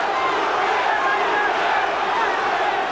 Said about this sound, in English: The crowd starts to chant again.